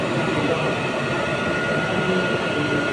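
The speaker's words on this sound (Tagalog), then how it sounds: "Vacuum scrubbing." An auto scrubber floor cleaning machine scrubs and vacuums a floor, giving a steady, loud, even mechanical whir with broadband motor and suction noise throughout, with no break.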